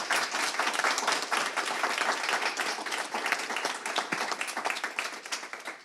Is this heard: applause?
yes